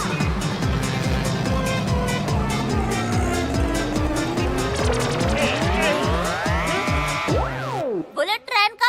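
Cartoon auto rickshaw engine roaring as it speeds along, tires squealing in a long skid to a stop, with music running underneath.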